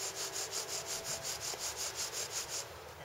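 Wooden bow drill spindle rubbing rhythmically in the second hole of a two-hole fireboard, a steady back-and-forth grinding friction with regular strokes, close and moderately loud, no talking.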